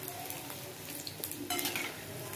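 Paneer kofta balls deep-frying in hot oil on a low flame give a steady, close crackling sizzle, with a brief louder burst and faint utensil clinks partway through.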